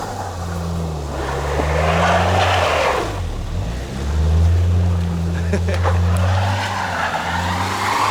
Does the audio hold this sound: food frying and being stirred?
no